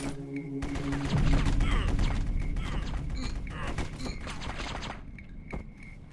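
Sniper rifle fire in the War Brokers shooter game: a rapid series of sharp, close gunshots and mechanical clicks crackles in quick succession, fairly loud, then thins out toward the end.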